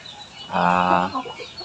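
An aseel chicken gives one loud, close cluck lasting about half a second, with quieter bird noises before and after.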